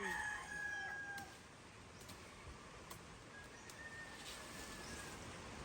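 Faint and distant, a rooster crows at the start amid chickens on a farm, followed by a few sparse clucks and scattered taps over a steady hiss of outdoor ambience.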